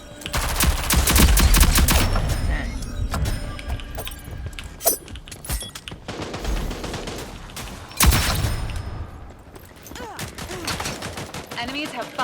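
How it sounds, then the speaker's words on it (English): Dense bursts of gunfire from the online shooter game Rogue Company, with rapid automatic volleys and single shots crackling through a busy mix, loudest early and again near the end, with voices talking over parts of it. "that guy's shooting sideways"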